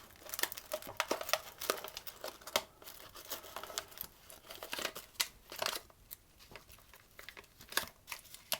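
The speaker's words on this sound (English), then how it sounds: "I'm going to drop each one, if I can, into my paper mould." Paper brioche moulds crinkle and rustle as portions of brioche dough are dropped in and handled, with close, irregular crackles running steadily throughout.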